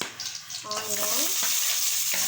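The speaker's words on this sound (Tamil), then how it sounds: "நல்லா பொன்னிறமாக வறுத்து எடுத்துக்கலாம்." Chopped onion frying in oil with cinnamon, cloves, star anise, cumin and fennel in a pan, heard close up as a loud continuous sizzle with stirring scrapes.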